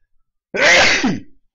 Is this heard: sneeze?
yes